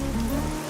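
Steady rain falling at night, a dense even hiss of drops on surfaces that fills the short moment with no voices.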